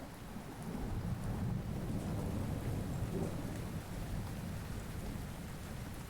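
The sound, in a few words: rain and thunder ambience playing in background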